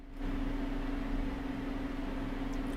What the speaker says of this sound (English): all you can hear there is white noise